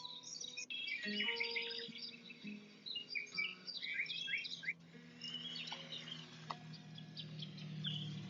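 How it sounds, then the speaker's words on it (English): Small birds chirp and tweet in a quick, busy, high-pitched chorus that goes on without a break. The calls are moderately close and there is no talk over them. "Birds are a little high-pitched?"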